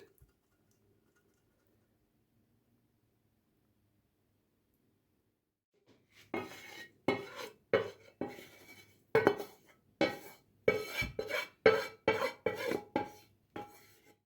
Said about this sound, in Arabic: دابا غادي نخلط كلشي